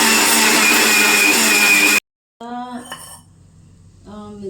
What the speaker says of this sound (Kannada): ರೈಸ್ನ ಮಿಕ್ಸಿ ಹಾಕಿದೆ